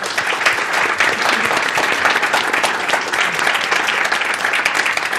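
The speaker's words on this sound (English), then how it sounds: "I'd love to give a round of applause to the great panel." A loud, continuous burst of audience applause for a panel at a tracking and measurement industry talk, many hands clapping together at steady strength throughout.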